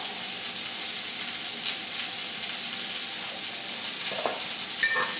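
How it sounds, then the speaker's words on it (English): Brussels sprouts sizzle steadily in a hot pan with a constant hiss, broken by a few soft scrapes and clinks as they are stirred, louder near the end. "We're going to give them a stir."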